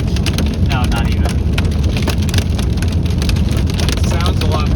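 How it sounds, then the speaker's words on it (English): Hail pelting a car during a Nebraska storm chase near a rain-wrapped tornado, a dense, loud, continuous rattle of small stones on the roof and body, with rain noise mixed in. "Oh, we got hail."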